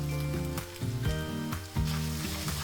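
Cooked rice with fried onion and chopped coriander fries in a pan for Goan sausage fried rice, a continuous close sizzle broken by repeated scraping stirs of a utensil against the pan.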